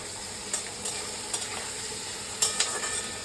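Potatoes fry in a pan with a constant close sizzle while a spatula scrapes through them in several short, separate stirring strokes.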